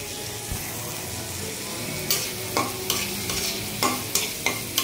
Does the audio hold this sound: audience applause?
no